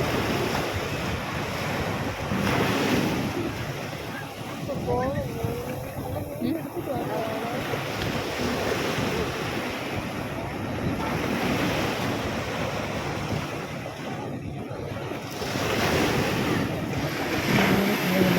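Sea waves rolling onto an evening beach, a continuous loud roar of surf with rising and falling swells, heavy wind buffeting the microphone, and people talking now and then over it.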